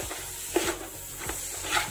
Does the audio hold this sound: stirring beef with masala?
yes